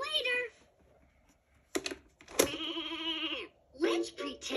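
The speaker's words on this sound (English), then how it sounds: "Let's pretend to be a sheep!" A Fisher-Price activity table toy plays a sheep bleat, with short electronic sound bursts and a wavering bleat-like tone mixed among cheerful recorded toy voice phrases.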